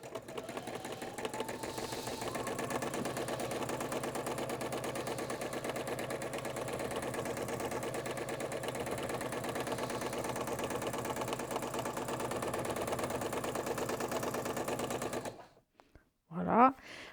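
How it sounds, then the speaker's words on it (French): Sewing machine running at full speed, a fast steady whirring hum with rapid needle ticking that holds unbroken and close for about fifteen seconds before stopping abruptly, followed by a brief voice. "il faut mettre la machine au maximum de vitesse"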